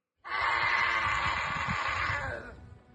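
A piercing, sustained human shriek from a recording of alleged demonic possession bursts in suddenly, stays loud and harsh for about two seconds, then fades out.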